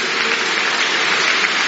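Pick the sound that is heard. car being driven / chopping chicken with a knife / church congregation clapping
church congregation clapping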